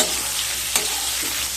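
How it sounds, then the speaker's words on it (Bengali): Pointed gourd (potol) frying in turmeric-tinted oil, a dense, loud, continuous sizzle with a brief stirring scrape midway, close and steady. "এবার পটলগুলোকেও হালকা ব্রাউন কালার করে ভেজে নেব।"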